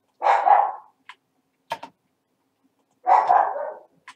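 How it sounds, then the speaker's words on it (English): A dog barks in two bursts of rapid, fairly close yaps, separated by a few short clicks and knocks, with silence between. "that's my dog in the background"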